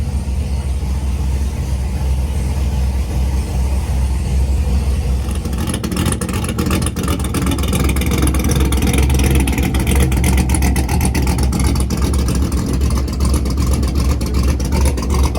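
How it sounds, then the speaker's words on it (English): A C6 Corvette fitted with a Texas Speed cam idles with a deep, lumpy rumble, then is revved, the loud engine note turning harsher and more choppy in the second half; no talk. "letting the car idle"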